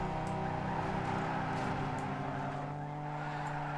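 A tuned street car drifting in the racing game Need for Speed Underground 2, its engine holding a steady droning pitch while the tires skid and squeal continuously through a slide.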